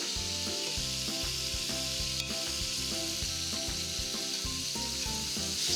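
Meat sizzles in a pan with a steady, close frying hiss, while rhythmic music plays underneath throughout.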